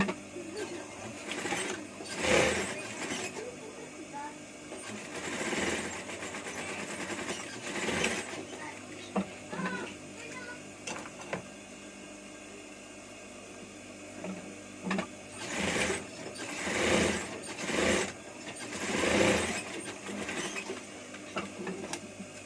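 A sewing machine stitches the centre seam of a two-layer cloth face mask in several rapid, rattling runs, pausing and restarting at close range in a quiet room.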